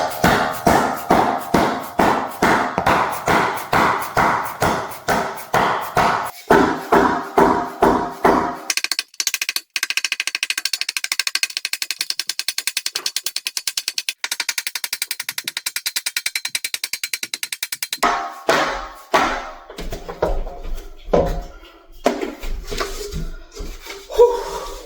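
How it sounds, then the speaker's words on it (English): A hammer taps snap-in flooring planks into place, first in a fast series of sharp, even knocks, then a steady scraping stretch, and later more irregular hits, loud and close. "You want to do this, hold it down, and then hit at an angle coming this way."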